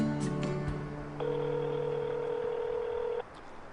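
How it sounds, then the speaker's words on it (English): A telephone dials out a call: a few brief tones give way to a steady, sustained ringback tone lasting about two seconds, heard close and clear with a low background hum. "I'm going to see if the phone works, and I'll give her a call."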